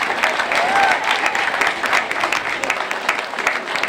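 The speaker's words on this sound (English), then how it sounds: "hopefully, you can clap for Chuck, he'll like that." Crowd applause at a unity and love rally, a dense, steady wash of many hands clapping that holds throughout at fairly close range, with faint voices mixed in.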